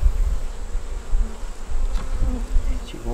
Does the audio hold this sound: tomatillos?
no